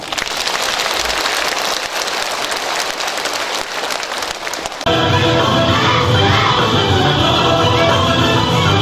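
An audience at the 15th Senior Citizens' Day ceremony claps in a steady, dense wash for about five seconds, then music suddenly starts and carries on loudly.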